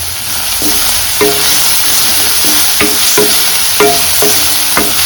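Egg rice ingredients fry in a hot pan while a spatula stirs them, giving a steady sizzle under repeated scraping taps and clinks at a fairly regular rhythm, close and loud, with no voices.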